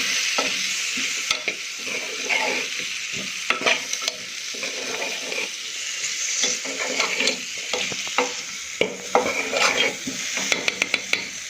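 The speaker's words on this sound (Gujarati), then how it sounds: "અને હવે બધા મસાલાને આપણે સારી રીતે હલાવી દઈશું." Spices are stirred in a sizzling pan of frying fada khichdi. A steady hiss of frying runs under repeated scraping strokes and the clink of a metal spoon against the pan, close and fairly loud.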